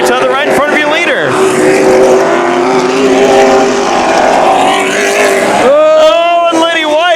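Late model stock cars roaring around Havasu 95 Speedway, engines rising and falling loudly as the pack sweeps past, with a commentator talking over the racing.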